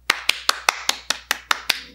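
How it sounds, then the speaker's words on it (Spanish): Nine sharp, evenly spaced hand claps ring out close and loud at a steady quick rhythm, each snapping crisply and fading before the next. "Vamos a darle un aplauso a Repelitos por haber colaborado con este video."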